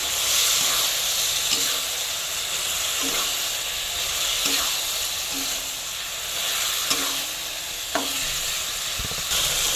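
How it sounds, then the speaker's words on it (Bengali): Green chilies and mustard paste stirred together in a frying pan, a steady sizzling hiss with spatula scrapes every second or so, close and continuous, no talk. "এবারে দিয়ে দেবো 3টে চেরা কাঁচা লঙ্কা আর দেবো সর্ষে বাটা। দিয়ে ভালো করে একটু মিশিয়ে দেবো।"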